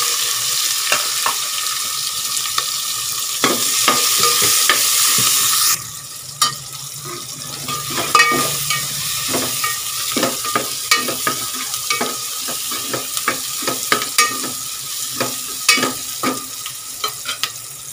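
Onions frying on full gas in a pan with bay leaf and black cardamom, a steady loud sizzle at first, then quieter crackling broken by repeated sharp scrapes and clinks of stirring.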